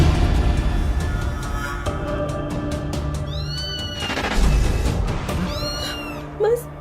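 Two drawn-out, high cat-like meows sound a few seconds apart over a dense, noisy background hum.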